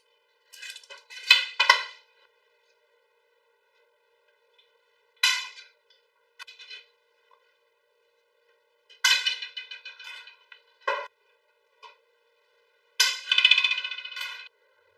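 Wire cutters snip twist wire into pieces for a wooden bonefish popper: several sharp metallic clicks and snaps come in short clusters, separated by silence.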